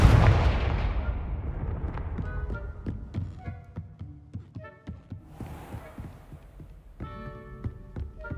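A Confringo blasting-spell explosion in Hogwarts Legacy bursts loudly at the start and decays into a rumbling tail, followed by a run of sharp thuds and impacts.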